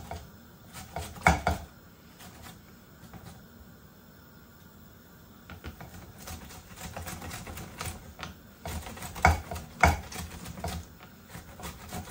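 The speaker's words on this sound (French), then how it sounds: "Après avoir râpé ma tomate" A tomato is grated by hand against a grater, making irregular scraping and rasping strokes in clusters with quiet gaps between them, close and moderately loud.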